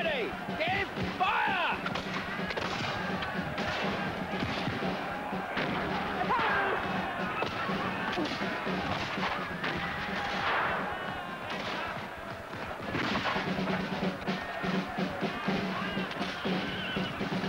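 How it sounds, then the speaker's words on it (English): Repeated booming cannon blasts over a noisy battle reenactment at Pevensey Castle, with horses whinnying and voices shouting throughout. "Cannon! Give fire!"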